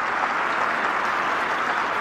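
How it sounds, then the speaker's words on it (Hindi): A thick, unbroken roar of applause fills the hall at Rashtrapati Bhavan as an Arjuna Award recipient is named. It holds loud and even for about two seconds, then cuts off sharply. "पूरा हाल तालियों की गड़गड़ाहट से गूंज उठा"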